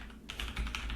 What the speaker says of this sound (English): As I clank on my mechanical keyboard here